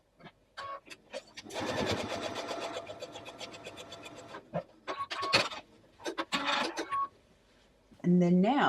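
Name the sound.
sewing machine sewing quilt triangle onto parallelogram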